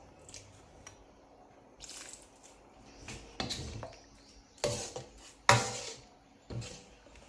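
Fresh lime juice, three tablespoons, spooned into a pot of tom yum soup with minced pork and tofu, the heat switched off; soft separate drips and liquid splashes with light clinks of spoon on pot, several spaced pours, close and fairly quiet.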